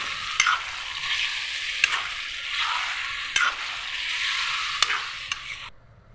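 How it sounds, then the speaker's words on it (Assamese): A spoon stirs potato curry with a little added water in a pan, sweeping scrapes over a soft sizzle, punctuated by several sharp clacks against the pan, then stopping abruptly, no voices. "এতিয়া আকৌ লৰাই দিম।"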